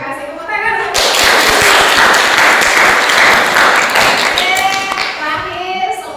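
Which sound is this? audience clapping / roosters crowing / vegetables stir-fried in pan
audience clapping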